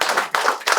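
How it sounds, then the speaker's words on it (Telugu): Hands clap in three quick, bright bursts, close and loud with a short break between each. "Wonderful, clap clap."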